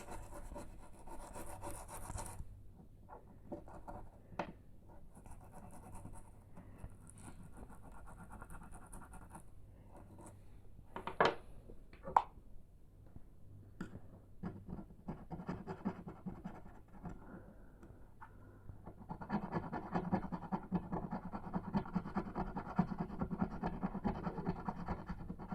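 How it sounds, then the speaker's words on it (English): A Peugeot/Citroen car key is scrubbed hard, giving faint, close, rasping rubbing strokes in uneven bursts with quieter pauses between them. "And this one I'm scrubbing quite hard because it is only a key."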